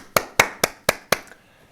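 Children in a Korean church's elementary department clap, heard as five crisp, evenly spaced handclaps in quick succession, close and loud, that stop abruptly with a faint trailing tap.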